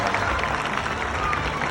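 Applause breaks out from a crowd at an otter show at Six Flags Discovery Kingdom, a continuous loud wash of clapping with crowd murmur and voices throughout.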